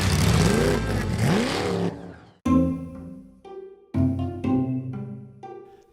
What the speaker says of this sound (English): The car is very noisy and it's really big engine.